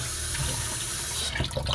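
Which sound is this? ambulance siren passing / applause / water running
water running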